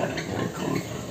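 Two sows grunt on a pig farm, a short low rumbling snort over steady barn background.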